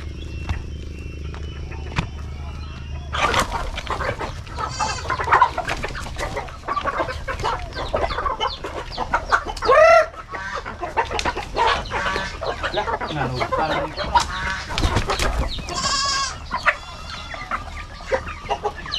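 Backyard chickens on a provincial farm cluck and squawk in a busy, uneven chorus up close, with sharp louder calls and a rooster-like cry breaking through a low steady background hum.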